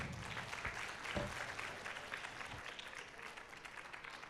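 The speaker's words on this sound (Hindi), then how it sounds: "जोरदार तालियां हो जाए।" Audience at a question-and-answer session breaks into a sustained round of clapping, a dense, steady wash of applause that holds at even loudness throughout with no speech over it.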